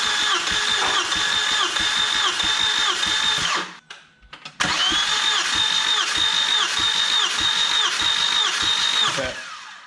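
An Audi A4 1.8T engine cranks over on the starter during a compression test with the spark plugs out, a loud steady whirring drone that stops briefly and then resumes, heard alone without talk.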